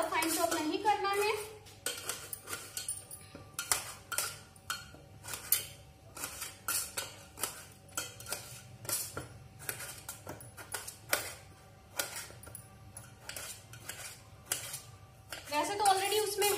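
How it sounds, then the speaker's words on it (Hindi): Onions and tomatoes are roughly chopped with a knife on a board in a home kitchen, a steady run of sharp close taps through most of the stretch, with a voice briefly at the start and end. "फटाफट से कर लेते हैं अपनी चॉपिंग। रफली चॉप कर लेना है, ज्यादा फाइन चॉप नहीं करना है।"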